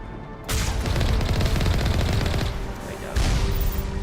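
Sustained turret gunfire in the video game Mass Effect pounds away in dense, rapid bursts, loud and continuous with a brief dip before resuming.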